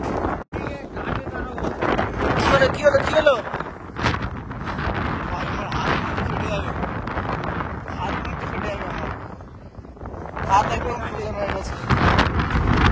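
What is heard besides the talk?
strong cold wind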